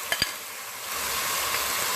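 Chopped onions drop into hot oil in a pan for a Pakistani chicken curry. A couple of soft clunks come first, then a loud, steady sizzling hiss builds and holds close up.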